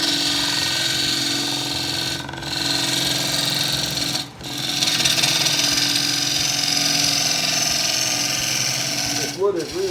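A power tool spins steadily at about 1500 RPM into very hard wood on a lathe-like setup, a constant whining drone with two brief dips, while someone talks over it.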